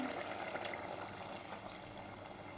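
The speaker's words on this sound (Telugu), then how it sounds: "మనం ఒక చిన్న గ్లాస్ వాటర్ పోసేసుకుందాం" A small glass of water pouring and splashing into a pan of mutton curry, a quiet, steady liquid gurgle with a brief louder burst near the end.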